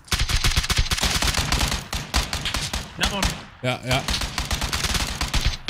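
Rapid bursts of automatic gunfire crackle in the battle royale game PUBG, dense and loud with brief pauses between volleys, while a voice is heard briefly over the shooting.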